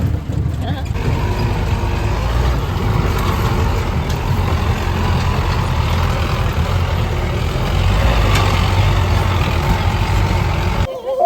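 A jeep's engine drones loud and steady throughout a bumpy ride, a dense continuous rumble with road noise that cuts off abruptly at the end.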